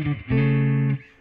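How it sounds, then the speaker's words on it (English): Tom Anderson Short Drop Top Classic electric guitar on its neck pickup alone: a short plucked note, then a sustained clean chord ringing about half a second before being damped, heard alone. "this is the sound of just that neck pickup"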